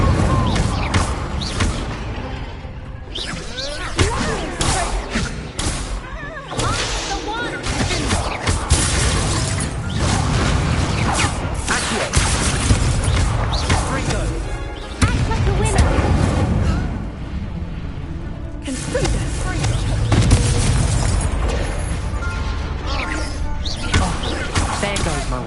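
Incendio fire spells blasting in the video game Hogwarts Legacy, a dense run of loud crashing, shattering bursts that keep going almost without pause, with voices at times.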